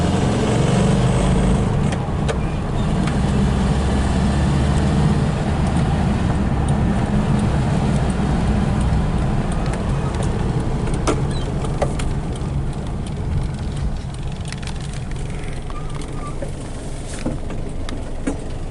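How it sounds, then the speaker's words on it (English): A 1970 Volkswagen Type 3 fastback coupe's engine runs steadily during a test drive, a constant low drone with road rumble filling the whole stretch, loud and close with no notable changes. "Egyenletes a motor. I like the sound of it too."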